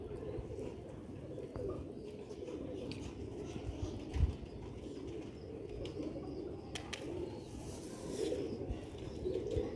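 Sialkoti high-flying pigeons of an old breed coo in low, continuous rumbling murmurs close by, with a steady layered cooing throughout and a brief soft bump midway.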